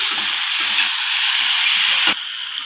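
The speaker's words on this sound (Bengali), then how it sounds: "এরপর সব কিছুর সাথে আলুগুলোকে আমি ভালো করে কষিয়ে নেব।" Fried potatoes and eggplant with spices are stir-fried in a pan for a home-style rui fish curry, giving a loud, even sizzle and hiss that eases off near the end, with soft stirring sounds.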